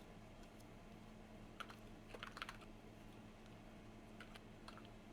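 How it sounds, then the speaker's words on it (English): Quiet, scattered bursts of computer keyboard typing, a few clustered keystrokes at a time over a steady low hum, with no voices. "I hear typing."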